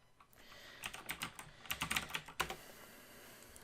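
Quick, uneven keystrokes on a computer keyboard while a password is typed, a burst of soft clicks in clusters with short pauses between them, heard alone at close range without talking.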